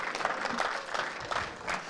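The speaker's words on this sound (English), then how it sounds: "Let's give McDermott a huge round of applause." Steady audience applause fills a pool championship hall during the IPA World Championships, a dense wash of many hands clapping at a fairly even level throughout.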